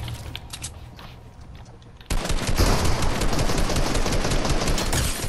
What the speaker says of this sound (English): I have shot it and broke the shield.